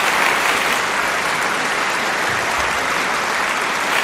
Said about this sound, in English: So a round of applause to all of you guys.